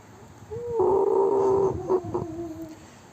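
Chickens let out of a coop after a month of confinement, one bird giving a sustained, fairly close call with a couple of short clucks after it, alone and with no talk.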